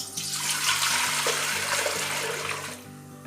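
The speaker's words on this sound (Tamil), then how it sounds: "தேவையான அளவு தண்ணி ஊற்றிக்கலாம்." Water poured into an idli steamer pot on the stove flows as a steady, close splashing stream for about three seconds before cutting off.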